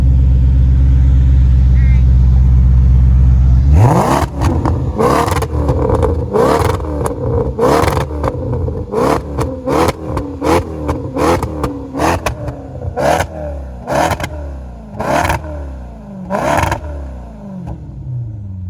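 A Ferrari-powered car fitted with an aftermarket exhaust and other mods, in sport mode, idles loudly before breaking into a long run of sharp, repeated revs with crackling blips between them, close and loud.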